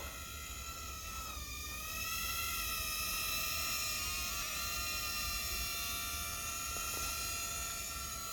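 An Eachine E016F toy drone flies at full throttle outdoors in fog, giving a steady, high-pitched whining buzz from its small motors that holds fairly loud and continuous, lifting slightly in intensity after the first couple of seconds.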